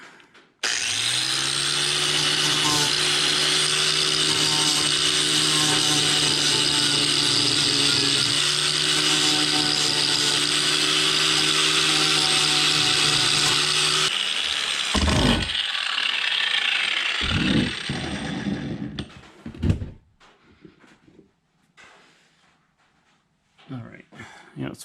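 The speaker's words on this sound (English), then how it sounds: "now that I got the angle grinder, let's see if we can take this down a little bit" An angle grinder grinds steadily at close range on an antique toolbox, taking down paint and a rivet in a loud sustained whine for about fourteen seconds, then shuts off into scattered clanks, knocks and rustling handling sounds.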